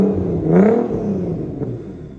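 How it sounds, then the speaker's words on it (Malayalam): Nissan GTR with a handmade triple titanium exhaust revving close by, a single rising engine blip that swells and falls back to a rough idle rumble. "അതുപോലെ തന്നെ ഒരു ട്രിപ്പിൾ എക്സോസ്റ്റ്, ഇത് കുറച്ച് മുമ്പ് റെവ് ചെയ്തിട്ടുണ്ടായിരുന്നു"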